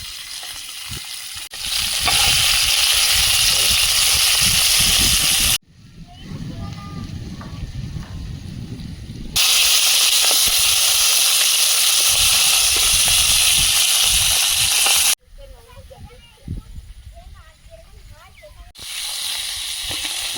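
Steady monsoon rain falls in a broad, loud, hissing wash that runs in long stretches with abrupt breaks, and a voice is heard faintly in the gaps.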